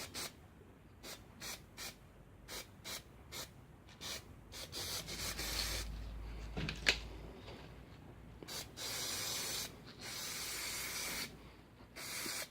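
Small brush dabbed repeatedly onto medieval-style painted scenery: a close, quiet run of short scratchy dabs in quick bursts, broken by brief pauses, then longer rubbing strokes toward the end.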